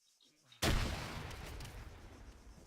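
Grenade blast in the video game Arma 3: near-silent lead-in with faint voice, then one sudden loud explosion whose rumbling, crackling tail lingers for two seconds.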